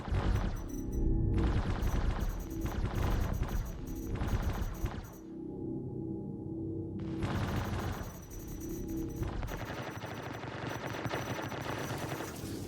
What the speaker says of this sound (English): the M2 is taking multiple hits from the laser repeaters